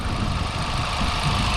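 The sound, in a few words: 2024 Volkswagen Golf GTI engine idling cold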